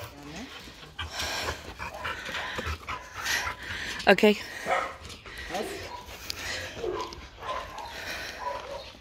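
Dogs at an animal shelter pant, whimper and give a short bark close by, mixed in with people talking to them throughout.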